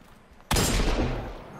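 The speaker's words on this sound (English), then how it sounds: "I'm ready to unleash the hand cannon." A single sharp, loud hand cannon shot from Destiny 2 bursts in abruptly and leaves a long, booming decay that slowly tails off.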